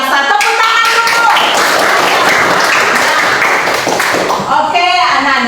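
A classroom of students clapping their hands in a dense, sustained burst of applause that fades briefly near the end, with a voice audible over the start and finish.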